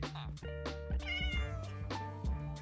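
A Minecraft cat meows several times in short, tonal calls, fairly close and clear against a quiet game background.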